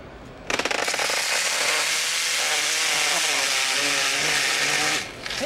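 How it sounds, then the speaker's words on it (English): A Makita 10-inch dual slide compound miter saw spins up and bites through a cut, a loud sustained buzzing whine for about four and a half seconds before it cuts off. "Let's just have a cut here. The Makita 10-inch dual slide compound miter saw."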